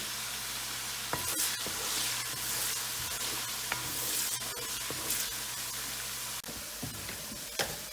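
Potato greens frying in a pan on a home stove, with a steady sizzle under repeated scraping and clinking stirs throughout, close and without talk.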